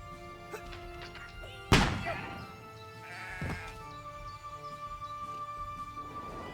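Sheep bleating in the video game Renowned Explorers, a couple of clear synthetic bleats over a steady game music bed, with a sharp impact hit just before them.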